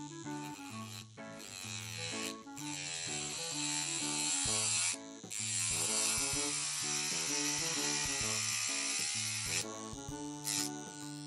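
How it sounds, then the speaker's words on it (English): A small high-pitched electric nail drill running in reverse whirs steadily, its whine shifting in pitch as it presses and eases, with brief pauses between passes. "And then I'm just gonna put my drill in reverse."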